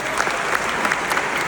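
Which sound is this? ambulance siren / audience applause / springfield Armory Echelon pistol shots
audience applause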